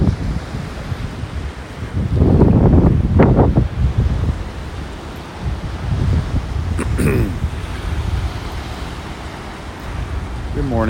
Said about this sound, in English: It is windy out here.